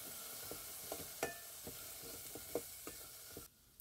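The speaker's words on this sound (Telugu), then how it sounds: "మనం ముందుగా బాయిల్ చేసి పెట్టుకున్న బఠానీ ఇందులో యాడ్ చేసుకోవాలి. యాడ్ చేసుకొని ఒక 5 minutes ఫ్రై చేసుకోవాలి." Boiled green peas fry in a pan for a tomato pea curry, giving a faint, steady sizzle with regular soft scraping taps of stirring, heard close and alone.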